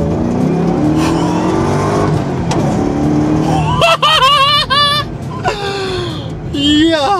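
A 2006 Ford GT supercar with a 550-horsepower engine accelerates hard, its loud rising engine roar climbing through gears, while excited voices and laughter break in over the second half.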